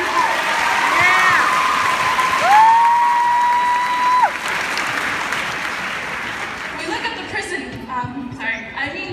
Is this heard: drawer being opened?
no